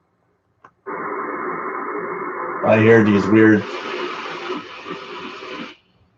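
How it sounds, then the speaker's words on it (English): Shortwave radio tuned to 13560 kHz, a steady buzzing signal of stacked tones lasting about five seconds, briefly interrupted by a warbling, whistle-like burst, with a voice speaking over it. "there's weird tones and stuff, and there's packets and whistles and all sorts of weird things"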